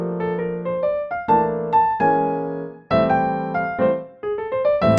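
Piano playing a bebop line, quick runs of single notes over left-hand chords with brief triplet-like flurries, close, clear and unaccompanied.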